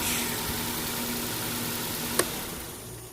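A Nissan Sentra GXE idling with a slight misfire and a failing alternator: a steady, low engine hum with a hiss, and one brief tick partway through.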